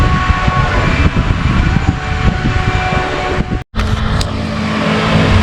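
A Johnson 70 hp outboard on a Nitro 165 TL bass boat runs steadily and loudly after a locked lower unit was freed, with a brief dropout partway through before the engine drone resumes.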